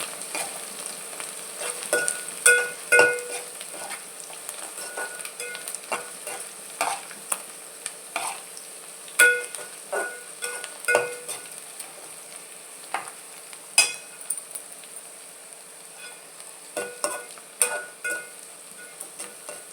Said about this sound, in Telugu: ఇలా మంచిగా వేయించుకోవాలి